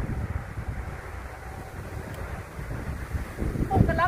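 Cool wind blows steadily across a garden in Thailand, a broad, continuous rushing with gusts buffeting the microphone and swelling near the end.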